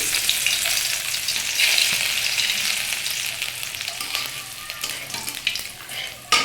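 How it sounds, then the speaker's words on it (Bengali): Chopped ginger sizzles and crackles in hot oil, a steady frying hiss with occasional stirring clatters close by. "আদাটা একটু লাল লাল করে ভাজা হবে।"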